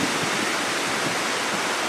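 An Icelandic waterfall roars in a steady, dense rush of falling water, loud and unbroken throughout without voices.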